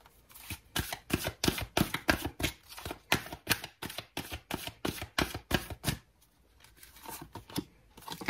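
An energy oracle card deck being shuffled in quick, rhythmic riffling bursts, close and fairly loud, with a brief pause before a few softer shuffles and no talking.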